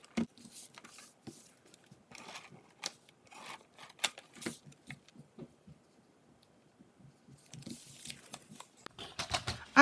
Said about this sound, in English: Let me go ahead and cut it out.